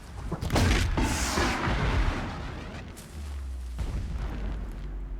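Heavy booms rumble in the distance within the video game Horizon Zero Dawn, a few deep explosive blasts rolling one after another over a loud, continuous low background without any talking.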